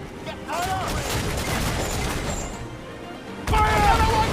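Ship cannons in the Assassin's Creed Freedom Cry video game boom in a heavy, rumbling barrage, with a fresh loud blast near the end, while voices shout over the gunfire.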